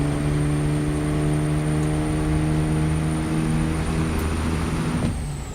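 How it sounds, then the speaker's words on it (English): Cummins ISX truck engine sound mod in American Truck Simulator: a loud, steady diesel drone with strong low harmonics and a faint high whine, easing off slightly at the end, no voices. "I really like the ISX engine sound."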